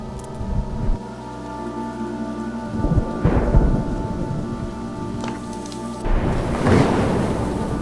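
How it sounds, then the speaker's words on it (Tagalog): Heavy rain falls outside in a grey afternoon storm, a steady wash of drops punctuated by several deep rolls of thunder, with no voices. "Umuulan ng malakas sa labas at kulay abo ang buong paligid"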